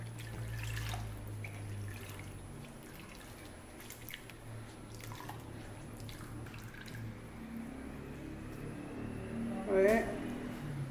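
Water drips and trickles from washed squash leaves being wrung out by hand, faint and close in a quiet kitchen, with a short louder splash near the end.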